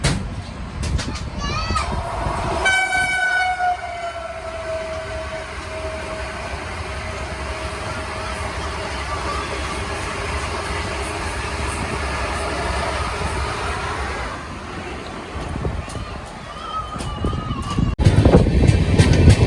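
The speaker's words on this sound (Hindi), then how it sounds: "वंदे भारत ओवरटेक।" A Vande Bharat train rumbles past close by for a long stretch as it overtakes an express train near Faridabad, with a rising horn near the start and children's voices chattering over the steady rail noise.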